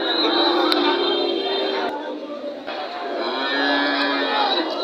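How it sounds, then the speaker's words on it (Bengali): Friesian black calves low and moo at a busy cattle market, with sustained calls overlapping one another against the general hubbub of the market crowd. "এগুলো ফ্রিজিয়ান জাতের কালো জাতের বাছুর"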